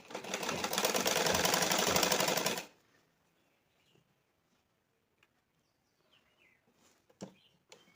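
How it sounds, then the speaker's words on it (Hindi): A sewing machine runs loud and close for about two and a half seconds while stitching a blouse seam, then stops, leaving near silence with a few faint clicks and handling noises. "उसके बाद ये मुड्ढे को 2 पॉइंट की दूरी पर सिलाई चलानी है। तब मैं चलाऊँगी सिलाई।"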